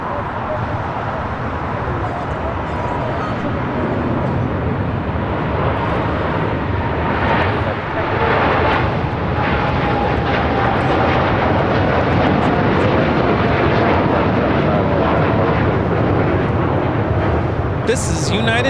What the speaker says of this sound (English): This is United Airlines Flight 32 taking off to Tokyo Narita on a 787-10 Dreamliner